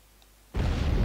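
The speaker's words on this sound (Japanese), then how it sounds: "王宮を爆発する必要はあんの" A loud explosion erupts suddenly in SaGa Frontier Remastered as a royal palace blows up, a dense roaring burst that cuts in from near silence halfway through and holds steady to the end.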